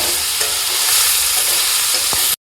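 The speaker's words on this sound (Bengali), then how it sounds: "এবার দিয়ে একটু নাড়াচাড়া করে নেবো।" Fish with turmeric and salt frying in a pan, a close, loud, steady sizzle with a stir or two, cutting off abruptly at the end.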